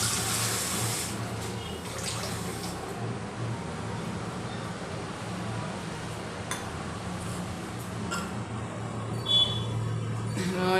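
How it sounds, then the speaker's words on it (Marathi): Water poured into thick rava idli batter, a steady close splashing trickle that runs nearly continuously, with a few light clinks of a utensil against the bowl near the end. "याला लागतं पाणी टाकायचं आहे."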